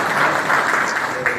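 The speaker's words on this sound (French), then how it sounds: "Je vous demande de l'applaudir" Applause from an audience at a TIFAD 2017 gathering in Tabarka, Tunisia, a dense steady wash of clapping filling the short moment at even loudness.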